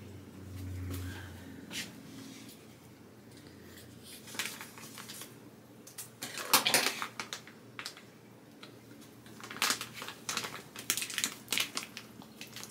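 A new bag of organic brown sugar is torn and opened, giving irregular crinkles and rustles of plastic packaging. They start faint and build into louder crackling bursts, close up, with no talking.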